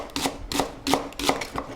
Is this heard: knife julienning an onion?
yes